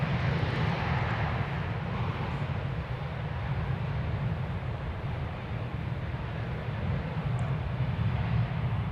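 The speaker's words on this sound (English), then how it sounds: "It's an Airbus A321." Airbus A321 airliner landing at DFW Airport, a steady, even jet roar at moderate distance that holds for the whole stretch without fading, with no voices.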